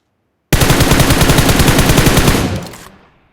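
Rapid automatic gunfire from a BGMI match, one loud continuous burst of shots lasting about two seconds, then a short decaying tail.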